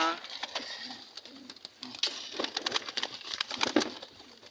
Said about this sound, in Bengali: এই যে একটা বাচ্চা কবুতর অনেক জড়মনি করে।